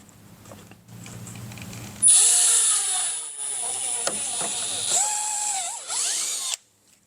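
A power drill with a 5/16 bit cuts through a fender on a 2024+ Polaris RZR XP 1000 UTV, starting after quiet handling noise and running loud and steady for several seconds with shifting pitch before stopping abruptly.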